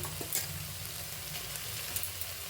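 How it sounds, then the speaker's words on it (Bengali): Fried onions go into a pan of softened tomatoes and green chillies for a Bengali-style pasta, giving a steady close sizzle and crackle with faint stirring. "এবার আমি এর মধ্যে দিয়ে দেব ভেজে রাখা পেঁয়াজ"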